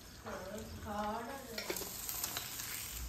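Eggs frying in a pan give a quiet, steady sizzle, with a brief tonal squeal early on that settles back into the soft crackle.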